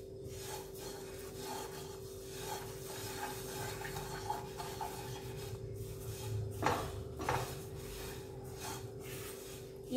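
A pan dry-roasts an ingredient for Jaipur-style chumchum while it is stirred, giving a continuous faint scraping and rasping with soft crackles and a couple of louder scrapes; a low steady hum underneath, no speech.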